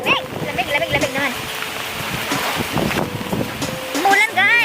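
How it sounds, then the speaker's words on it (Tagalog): Rain and strong wind sweep past outdoors on a cold, rainy day, a steady rushing wash under loud, excited voices talking and exclaiming throughout. "Umulan dito, guys, oh."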